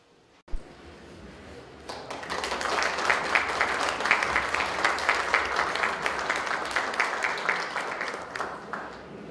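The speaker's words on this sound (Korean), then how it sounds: "큰 박수를 부탁드리겠습니다" Audience at a Rotary Club founding ceremony in Cheongju breaks into applause after a single thump, the clapping swelling into a sustained, moderately loud ovation with audible individual claps pulsing through.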